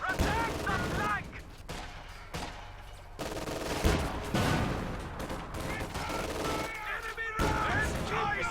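Rapid gunfire and artillery-like booms in the World War II strategy game Reign 2, with American forces firing on infantry in repeated bursts and volleys while voices call out in the background.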